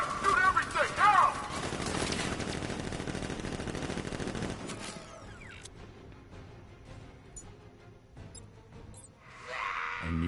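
Militia gunfire rattles in Batman Arkham Knight: rapid, dense shooting for about four seconds, then it drops away to quieter scattered noise before a brief swell near the end.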